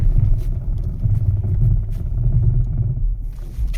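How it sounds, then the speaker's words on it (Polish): A car brakes from 30 km/h in poor weather, heard as a loud, steady low engine and road rumble from inside the vehicle that eases slightly near the end, with no talk. "Pojedziemy 30 na godzinę. 30. Spójrzcie, spójrzcie proszę i daję hamulec."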